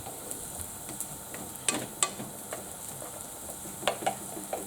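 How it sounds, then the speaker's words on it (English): Onions sautéing in a pan for spaghetti bolognese, a soft steady sizzle under occasional sharp scrapes and taps of stirring, fairly quiet and alone. "Make sure you are spreading your onions out into your pan when you are cooking"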